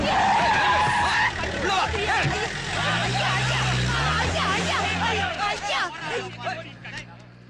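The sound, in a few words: car starting off and skidding, movie scene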